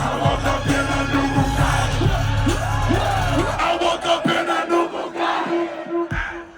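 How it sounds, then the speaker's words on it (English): A packed concert crowd at the Summer Smash 2023 festival screams and yells loudly and continuously, with rising whoops and cheers swelling, then breaking into scattered shouts near the end. "So now do you believe me when I say that crowd is insane?"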